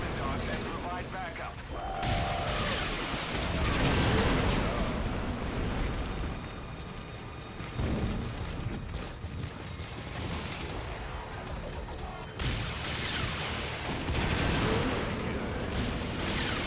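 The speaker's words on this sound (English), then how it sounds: "we're going to begin by dumping our entire rocket launcher into this guy" Rocket launcher volleys and heavy explosions in the video game Metal Gear Solid V: The Phantom Pain, a dense, loud, continuous barrage of booms and blasts with rumbling bursts throughout, and some speech-like sound mixed in.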